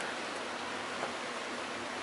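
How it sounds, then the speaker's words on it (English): Steady, even hiss of rain falling outdoors beside a hotel on a windy day, a constant soft wash with no other sounds. "You can probably hear the rain falling."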